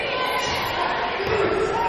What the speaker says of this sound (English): The crowd is into it now